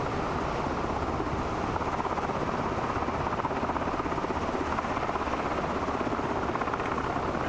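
Simulated MH-60 helicopter rotor in Microsoft Flight Simulator 2024, a steady close whirring thump that holds constant while the tail rotor turns the aircraft around.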